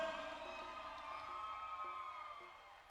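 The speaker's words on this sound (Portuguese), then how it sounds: "Salva de palmas para essa banda." Festival crowd cheering for a band at an outdoor show at Praia de Santa Maria on Sal, a faint distant wash of cheers and whoops fading slightly toward the end.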